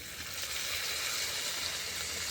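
Tomato, ginger-garlic and black pepper paste hitting onions already fried red in a pan over a clay stove for egg biryani, giving a steady, even sizzle with no one speaking.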